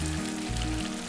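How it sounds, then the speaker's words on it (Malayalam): Coconut oil sizzling in a hot pan of aviyal, a close, continuous crackling hiss with low humming tones beneath. "ഇനി ഇതിലേക്ക് നമുക്ക് കുറച്ച് വെളിച്ചെണ്ണ ഒഴിച്ചു കൊടുക്കാം."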